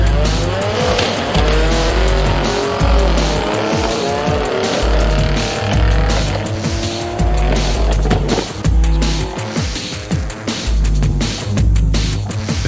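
A race car fitted with an HKS 51R SPL turbo and nitrous, rated over 1,000 horsepower, screams loudly and close as the engine revs rise and fall, with tires squealing and skidding throughout.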